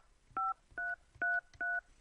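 Four crisp touch-tone telephone keypad beeps in a steady sequence, each short and evenly spaced, fairly quiet with no talking, entering a user ID on a message recorder.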